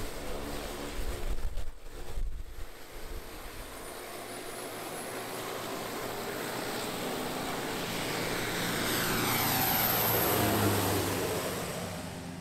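A floatplane's propeller engine drones steadily and swells louder as it taxis across a lake in Canada, with wind noise and no voices.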